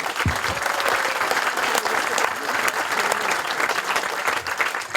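A crowd at an evening fundraising event gives a full, sustained round of applause for the organizers, dense and loud throughout with faint voices mixed in.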